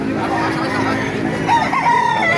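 Chickens cluck against a busy background at a chicken market in Baliuag, Bulacan, and a rooster crows nearby toward the end.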